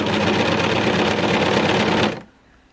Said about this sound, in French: je vais surjeter en maintenant bien la laminette sur le bord pour ne pas qu'elle soit coupée par la lame de ma surjeteuse